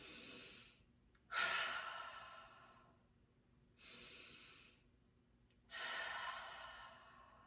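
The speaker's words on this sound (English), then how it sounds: "So big breath in." A deep diaphragmatic breath drawn in and let out, with long airy inhales and exhales in slow alternation, close and quiet with faint pauses between.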